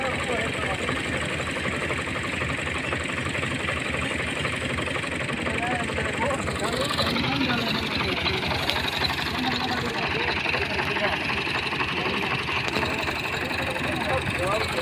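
A tractor engine runs in a steady, loud, rumbling drone for the whole stretch, outdoors in a farm setting, with a shift in its tone partway through.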